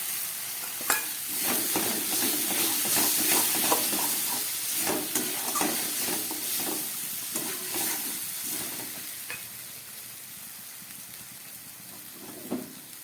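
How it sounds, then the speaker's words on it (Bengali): Fried potatoes tossed into sizzling masala in a pan for a jackfruit curry, a crackling hiss broken by repeated scrapes of a stirring spoon that fade toward the end. "এবার আমি এর মধ্যে দিয়ে দিচ্ছি ভেজে রাখা আলুটা"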